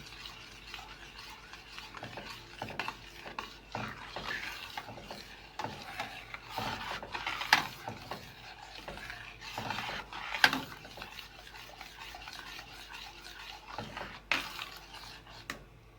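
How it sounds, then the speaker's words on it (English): A spoon works through thick cornmeal porridge in a pot, giving repeated scraping and rubbing strokes in an uneven rhythm, close and moderately quiet. "Continue to stir this to prevent lumps from forming."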